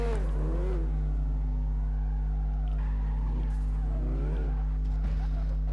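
Engine droning and revving in CarX Drift Racing Online, a car running a miarter tune drifting, steady and loud with pitch rising and falling through the clip and brief squeals near the end.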